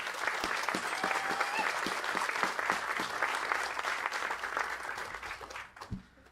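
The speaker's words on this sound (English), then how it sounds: "One more round of applause for all our guests this morning" An audience at a boarding school morning gathering applauds with steady clapping that holds for several seconds before thinning out and fading at the end, with faint voices underneath.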